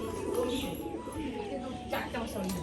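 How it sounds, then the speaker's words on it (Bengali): A female Rajshahi pigeon coos low and soft while displaying alone, a faint bird chirp cutting in near the end over steady background noise. "মাদি পায়রাটা এখানে বাজি করছে একা"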